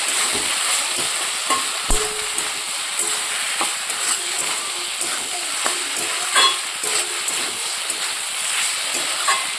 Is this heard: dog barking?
no